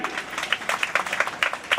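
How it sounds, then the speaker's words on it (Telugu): Audience clapping at a temple consecration ceremony, a brief burst of scattered handclaps at moderate distance with uneven rhythm. "చప్పట్లు గట్టిగా కొట్టాలని మనవి"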